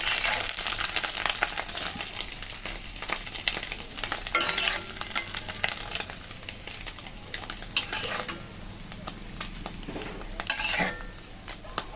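An egg fries in oil in a pan while pasta is being cooked, with a bright steady sizzle punctuated by spatula scrapes and metallic clinks against the pan.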